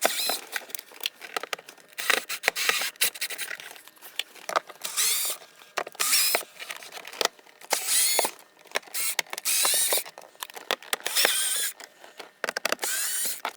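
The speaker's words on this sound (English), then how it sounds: "Now there are 8 Phillips head screws holding this cover on. We'll go ahead and remove those." Phillips head screws being removed from a console cover on a 2007-2014 GM truck, heard as close, intermittent clicky ratcheting and scratchy driver turns in short bursts with quiet pauses between.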